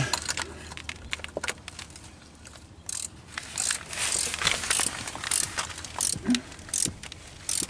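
A ratchet tightens a transmission mount bolt on a BMW E46, giving close, rapid clicking bursts in short repeated pulls over a faint background hiss.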